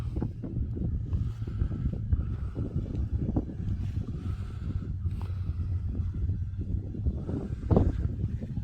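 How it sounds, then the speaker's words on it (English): A steady low engine rumble drones through the whole stretch, a tractor working a field nearby on a coastline, with gusty wind noise over the top. "I think there's a tractor in field."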